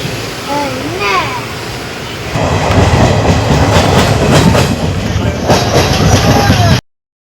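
The Coimbatore–Nagercoil Express runs loudly close by, a steady rumbling roar with rhythmic clickety-clack of wheels over rail joints, while a voice speaks briefly at the start before the train noise swells and dominates.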